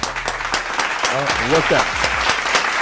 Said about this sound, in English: Let's clap it up for Montana.